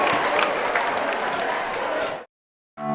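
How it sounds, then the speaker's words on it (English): Loud, dense crowd roar at a Bear Lake high school boys basketball game, steady cheering and clapping for about two seconds before cutting to silence, then a brief burst of another sound at the end. "Couldn't even hear the whistle because of the crowd noise"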